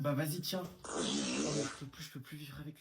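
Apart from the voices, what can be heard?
fart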